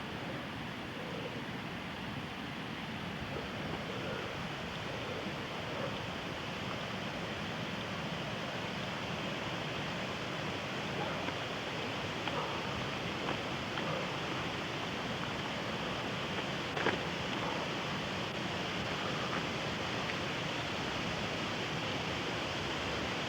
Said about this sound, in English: And this is the waterfall at Ridley